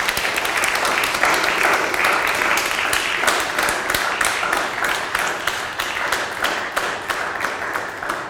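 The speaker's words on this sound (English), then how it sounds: "Please join me in a big round of applause for Professor Palme" An audience gives a sustained round of applause for Professor Palme after his talk at an academic event, dense clapping filling the hall at steady loudness and thinning slightly toward the end.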